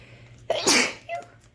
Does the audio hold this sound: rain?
no